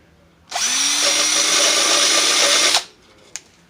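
Power drill fitted with a diamond bit boring a round hole through tile over concrete backer board, a loud steady whine starting abruptly and running about two seconds before cutting off, followed by a single small knock.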